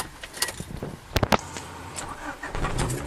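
A 1995 Honda Del Sol with a VTEC engine starts up after a brief jangle of keys and clicks, the engine catching and settling into a smooth, steady idle close by.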